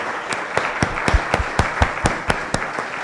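A conference audience claps in even rhythmic unison, loud sharp claps repeating about every quarter second, with no talk over them.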